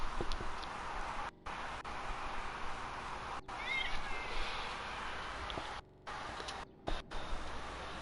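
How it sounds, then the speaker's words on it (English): A house cat meows several times under a steady background of game sound and music, the cries short and fairly close, with gaps of near silence between bursts. "I hear you, kitty cat."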